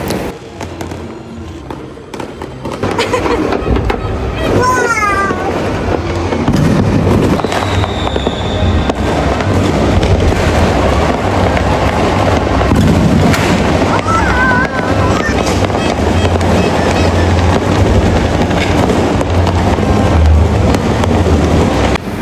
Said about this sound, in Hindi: हमारे छत पे भी आतिशबाज़ी हो रही है